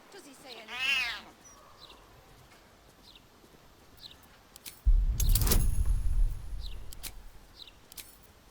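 A cat meows in Baldur's Gate 3: one rising, harmonic meow near the start, then quiet game ambience with faint soft chirps and a loud burst of noise in the second half.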